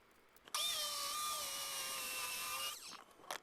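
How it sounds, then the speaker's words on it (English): A circular saw fitted with a rip guide cuts a sheet of plywood lengthwise for 1950s-style kitchen cabinets, giving one loud, steady whining run of about two seconds that starts and stops abruptly, with no talk. "I'm using my my rip guide to start breaking down the plywood lengthwise"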